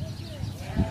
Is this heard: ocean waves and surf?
no